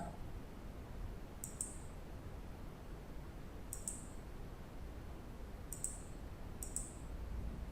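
Computer mouse clicks during a Photoshop selection, heard as four faint, crisp clicks spread apart, close by, over a steady background hiss.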